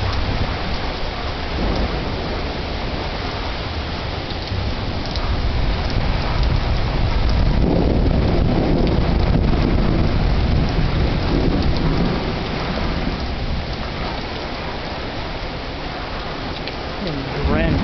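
Heavy thunderstorm with steady loud rain pouring close by and rolling thunder swelling in the middle, a continuous drenching roar throughout, with people's voices faintly present.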